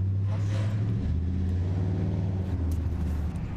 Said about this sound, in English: Truck's being obnoxious.